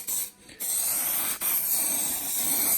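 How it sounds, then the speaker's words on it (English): A continuous hissing spray from an aerosol can of guide coat dusted over a panel, briefly stopping twice before resuming, close up and fairly loud. "the guide coat is literally an aerosol can"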